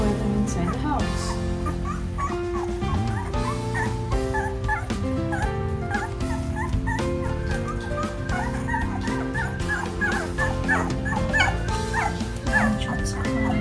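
Puppies kept in blocks inside a house bark, yip and whimper almost without a break, close and busy, while people talk over them.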